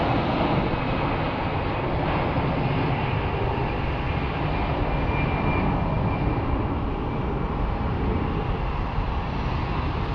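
An aircraft engine at Phoenix Sky Harbor airport gives a loud, steady roar with a broad rumble that holds without a break for the whole ten seconds.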